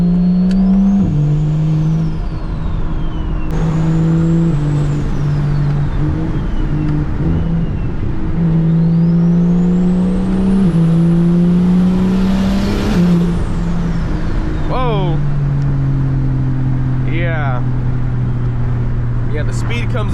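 A single-turbo BMW E92 335i accelerates hard along a road, heard from inside the car. The engine note climbs steadily with each gear, breaks briefly at the shifts, and carries a high turbo whine over a loud, continuous drone.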